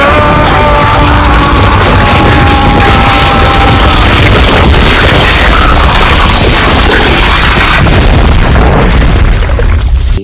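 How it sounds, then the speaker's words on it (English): Explosion in the 1998 film Blade, a loud sustained booming blast with crackling debris and roaring rumble filling about ten seconds, with a brief tonal swell early on. "and then he explodes."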